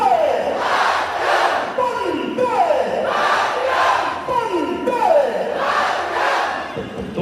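A large crowd at the Beating Retreat border ceremony chants patriotic slogans in loud, repeated call-and-response waves. Rising cries and roars recur every second or so, filling the air.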